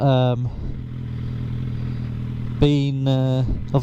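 A motorcycle engine hums steadily close by while a person talks in short stretches over the ride, the engine note running continuously underneath.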